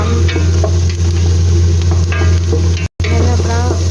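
Sliced onions fry in a hot pan and are stirred until brown, giving a loud, close, continuous sizzle with quick scraping strokes of a utensil. A steady low hum sits underneath, and there is one brief dropout near the end.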